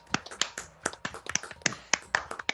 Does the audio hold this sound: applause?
yes